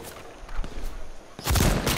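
Gunfire in the H1Z1 video game, a few scattered shots followed by a loud burst of rapid fire near the end, heard over faint background game noise.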